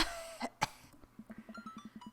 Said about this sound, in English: I pass the joint to Matt and cough a little bit.